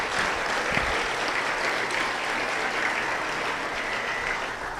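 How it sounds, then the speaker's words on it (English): Steady, even applause fills a banquet room at a university senior student-athlete luncheon, a dense patter of many hands clapping throughout at moderate volume. "So if we could all give mom, dad, grandma, grandpa, aunts, uncles a big round of applause."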